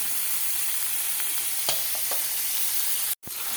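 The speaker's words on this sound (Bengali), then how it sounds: "লবণ দিয়ে একটু নাড়াচাড়া করলাম।" Pasta with salt is stirred in a frying pan, giving a steady sizzling hiss with a few light scraping taps and a brief cutout near the end.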